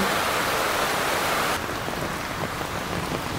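Steady rain falls in a dense, even hiss during stormy weather on a cattle farm, loud and unbroken with no voices.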